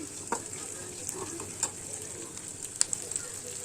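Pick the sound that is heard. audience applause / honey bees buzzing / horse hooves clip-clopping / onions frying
onions frying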